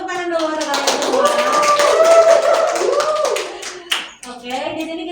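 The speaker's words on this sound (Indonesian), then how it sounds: "Tepuk tangan dulu untuk kalian semua." Classroom of students clapping together during a physics lesson on heat and temperature, a brisk, dense round of applause that carries on for several seconds as a teacher talks over it.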